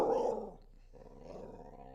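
A dog growls low and close, first in a loud burst and then in a quieter, rumbling continuation with no talk over it.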